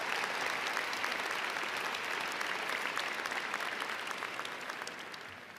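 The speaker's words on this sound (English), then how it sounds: "Let's go ahead and give a round of applause for that." A round of applause at the 2023 Ames High School commencement, dense steady clapping from a large audience that gradually fades toward the end.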